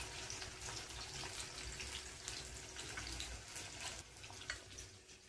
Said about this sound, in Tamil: இதில் தண்ணியை வடிகட்டி எடுத்து வச்சுக்கணும்.